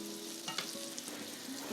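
Food sizzling steadily in a lightly oiled pan at Jan's On the Beach, a continuous close crackle of frying with a few brief stirring scrapes, no voices.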